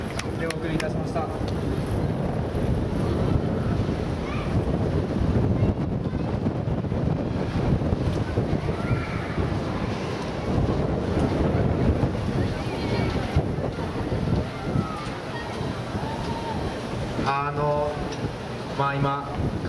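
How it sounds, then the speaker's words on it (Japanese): Wind blows outdoors at an amusement park during a brass ensemble's open-air performance, giving a steady, heavy rumbling buffet across the microphone throughout. Someone talks over it, and brief brassy tones surface near the end. "まあ今風が吹いていて、まあなんか楽譜が飛んでいってるみたいなんで"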